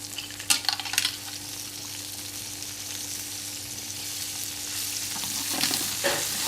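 Scallops, prawns and vongole clams fry in a pan, giving a steady broadband sizzle throughout with a few sharp stirring clatters near the start and again toward the end, heard alone.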